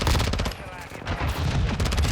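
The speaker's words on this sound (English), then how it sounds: "there is so much recoil in Scumpy's build. It's like fine at close range" VEL 46 submachine gun firing in Call of Duty Modern Warfare 2, a loud rapid full-auto burst of game gunfire with a brief pause midway before the shots resume, while a voice talks over it.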